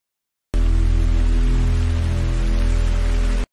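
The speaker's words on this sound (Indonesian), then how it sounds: "karena sudah larut malam dan hujan" Heavy rain pours steadily through a night scene in the horror film Wrong Turn, a dense, loud, unbroken hiss with a low rumble underneath that stays constant from start to finish.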